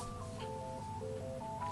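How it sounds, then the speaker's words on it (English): A telephone rings with a repeating electronic melodic tone, fairly faint and steady beneath low background hum, with no talking over it. "Why is the phone ringing while I'm trying to do it?"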